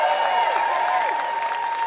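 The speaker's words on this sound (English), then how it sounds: "can we just have a big round of applause for every single volunteer that's helped?" A festival crowd at the Tottington Big Day Out 2019 claps for the event volunteers. The steady, fairly loud applause fills the short moment, with a faint tonal hum running underneath.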